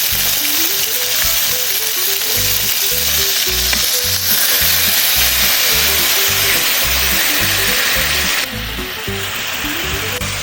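Stuffed chicken mozzarella sears in very hot olive oil in a pan, a loud, steady sizzle and crackle running the whole time with a faint repeating rattle underneath, the frying slightly quieter near the end.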